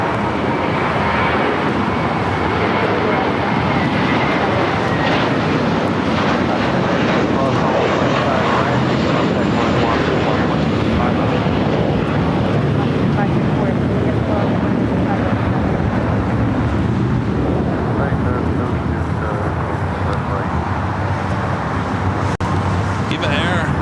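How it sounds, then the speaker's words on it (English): An Airbus A321 in the first Mint livery takes off from the south side of LAX, bound for JFK. Its jet roar is loud and steady for the whole stretch, with no pause. "Next takeoff here on the south side, heading to JFK."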